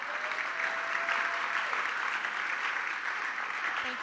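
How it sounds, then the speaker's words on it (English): At a Year 12 graduation ceremony, an audience applauds award winners with an even, continuous wash of clapping from a large room, moderately distant and unbroken by speech. "give these first lot of award winners a round of applause"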